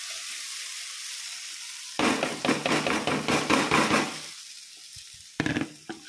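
Poha going into hot oil in a home kitchen pan, after turmeric, sets off a loud burst of sizzling and frying with stirring clatter for about two seconds, then a quieter simmer and a few sharp utensil knocks near the end.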